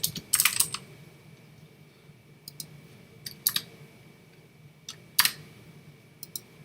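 Keyboard typing during a walkthrough of creating a simple log file on a computer for an online exams portal: scattered bursts of key clicks, close and moderately quiet, separated by pauses, with no talking.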